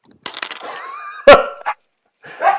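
A pet dog gives a few sharp barks and yips up close indoors, with short gaps of silence between the bursts.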